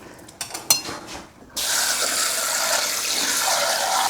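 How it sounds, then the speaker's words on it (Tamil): Tap water gushing into a sink for washing spinach greens while cooking bibimbap, starting after a few light clinks and knocks, then running as a steady loud hiss. "நம்ம வந்து கீரை வந்து பச்சை தண்ணியில் கழுவணும்"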